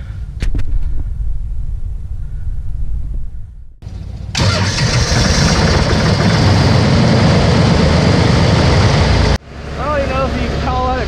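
A diesel engine on a farm is cranked with the preheat on during a cold morning. A short starter whine catches after a pause, the engine fires and runs loudly for several seconds, then drops to an idle as a voice speaks over it.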